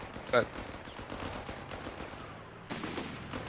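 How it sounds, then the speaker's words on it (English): Machine gun fire from a German MG team in Company of Heroes 3, a muffled continuous rattle of gunfire mixed into battle noise, with one sharp short burst near the start and a louder swell near the end, under commentator talk. "that MG is gonna mow down the assault engineers"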